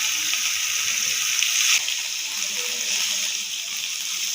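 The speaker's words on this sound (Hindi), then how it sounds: "दूसरी साइड पे भी हमने 1 से 2 मिनट के लिए इसे बस फ्राई करना है।" Fish frying in a pan on its second side, a steady broad hiss of sizzling oil that swells briefly before settling into a constant crackle, close and alone with no voices.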